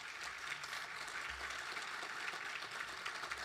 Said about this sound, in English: Let's give all our shining stars another round of applause.